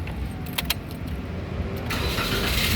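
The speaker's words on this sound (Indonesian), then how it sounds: "sekarang kita coba nyalakan mobil" Keys jangle briefly, then a manual 2015 Toyota Avanza 1.3 G with a 1.3-litre engine turns over and settles into a steady, close running hum. No one speaks.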